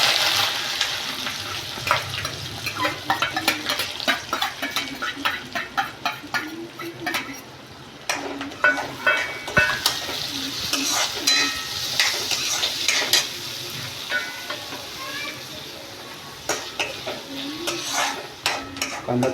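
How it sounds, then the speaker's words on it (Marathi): Onion frying in hot oil in a kadhai while a home-style chicken curry is cooked, a steady close sizzle with repeated clinks and scrapes of stirring throughout, no talk. "आपण आता कढईमध्ये तेल गरम करून घेतले आहे. आता त्याच्या आपण कांदा ॲड करूया"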